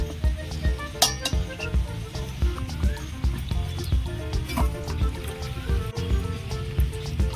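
Peeled mangoes are washed by hand in water, producing continuous splashing and sloshing with scattered clinks of a bowl or vessel, close and moderately loud, without speech.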